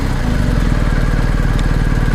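A 2022 BMW 1250GS motorcycle engine runs loud and close as it pulls away, a steady throbbing mid-pitched drone with no speech.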